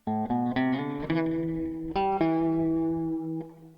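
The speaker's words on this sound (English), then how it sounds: "By itself, that guitar line sounds like this." A lone guitar lead line with chorus-like effect and reverb picks a few quick notes, then sustains long held-out tones that ring and slowly fade, close and clean.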